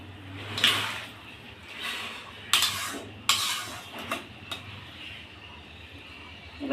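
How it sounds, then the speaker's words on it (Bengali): Pieces of fried bata fish go into a simmering fish curry and are stirred. A few sharp clinks of a utensil against the pot stand out over a soft, steady bubbling background. "এবার আমি দিয়ে দেবো ভেজে রাখা মাছগুলো।"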